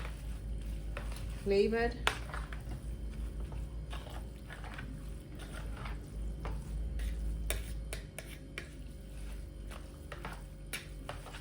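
Food being stirred in a pan, soft scraping and clinking strokes over a faint sizzle, fairly close, with a brief spoken word partway through.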